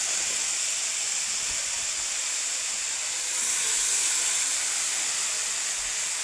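Dollar fish fry in hot oil in a pan, giving a steady, close sizzling hiss that holds without pause and swells slightly midway.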